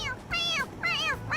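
A cartoonish cat meows three times in quick succession inside the video game Persona 5 Royal, each call bright, rising and falling, close and clear over a faint background, with no talking.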